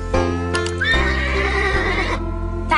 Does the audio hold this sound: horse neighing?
yes